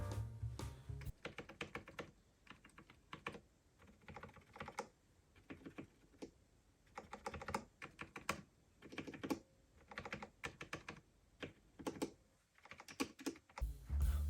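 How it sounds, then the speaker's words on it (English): A mechanical keyboard fitted with linear switches and a deep clacky sound is typed on in quick bursts of close, crisp keystrokes separated by short pauses, with no voices. "let's throw some linear switches on all of them and see how they sound"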